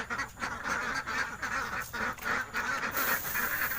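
A flock of ducks kept by a novice backyard keeper quack in steady, overlapping bursts close by, a continuous rough chatter with no talk over it.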